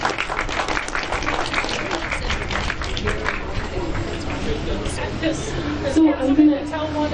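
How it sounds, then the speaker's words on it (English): A crowd at a library's 50th anniversary and grand reopening claps steadily throughout, a dense patter of many hands with murmuring voices and some louder, closer claps toward the end. "Give a round of applause for everyone who's come out."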